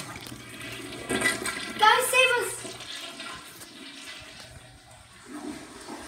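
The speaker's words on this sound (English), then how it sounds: "Oh, we're being flushed in the toilet." Cartoonish toilet flush in a Baby Mario adventure game, a rushing, swirling gurgle of water rising and then fading, with a voice shouting over it.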